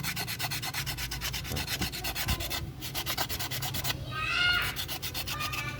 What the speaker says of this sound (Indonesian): Karena batu asah ini lumayan keras, jadi dia bisa menghapus atau mengikis serabut yang masih ada di sini